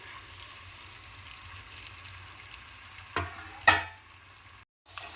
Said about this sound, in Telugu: స్టవ్ చిన్నగా పెట్టి ఫ్రై చేసుకోండి